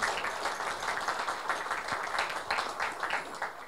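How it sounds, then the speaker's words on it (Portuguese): Audience applause fills a lecture hall during a talk on the Essenes and the Dead Sea Scrolls in Sena Madureira, a steady, fairly quiet wash of clapping from a moderate crowd lasting several seconds. "E eu peço uma salva de palmas para ambos."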